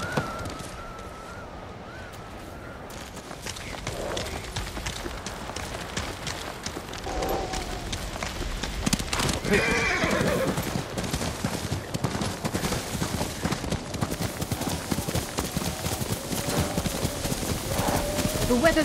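Horse galloping through snow in the video game Ghost of Tsushima, a rapid continuous hoof rhythm that grows louder and denser partway through, with voices talking over it.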